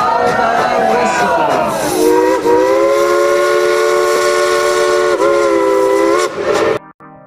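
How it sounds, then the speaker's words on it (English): Steam train whistle at a Dollywood amusement park railway, sounding one long, loud, sustained chord-like blast of several minutes-long tones that bends in pitch early, then holds steady for about five seconds before cutting off abruptly. "blow the whistle."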